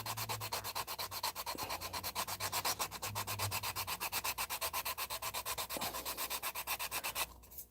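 Hand sanding of a baking soda and super glue filler on a resin model car body, a steady fast rhythmic rasping of back-and-forth strokes, close up, stopping just before the end.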